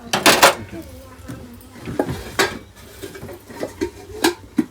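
A plate is set down as a lid over a cooking pot while making jeera rice in a home kitchen, giving a few sharp clinks of crockery on metal amid scattered kitchen clatter and brief talk.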